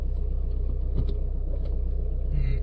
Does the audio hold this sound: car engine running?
yes